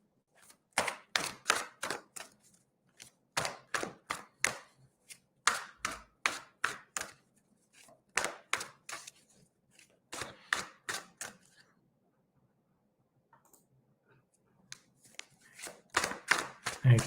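Cards are shuffled in repeated quick riffling bursts, crisp and close, separated by short pauses.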